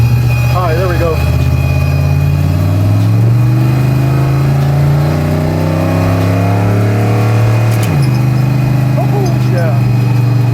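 A truck powered by a 427 LSX big turbo engine drives loud and close, its engine note rising through a long pull, dropping at a shift, then climbing again, with a voice briefly heard over the din.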